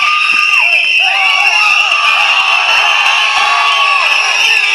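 Loud, continuous crowd noise at a political party rally, cheers and whoops swelling over a constant roar of many voices for the whole stretch, with shouted calls rising out of the mass.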